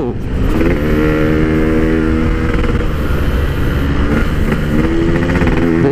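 A motorcycle fitted with a loud PK3 aftermarket exhaust rumbles close by in traffic, its engine note steady and throaty throughout with slight pitch shifts as the throttle changes, and no talk over it.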